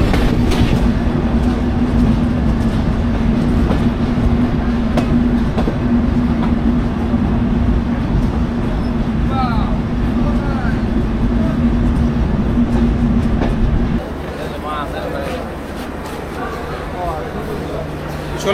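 The Benapole Express train passes close by with a loud, continuous rumble and rattling clatter of wheels. A steady droning tone runs beneath it and cuts off sharply near the end, leaving a softer rolling rumble.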